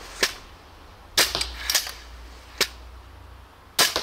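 Sharp snapping shots from a Greek belly bow, a crossbow-like weapon, five loud cracks at irregular intervals with a quiet gap between them.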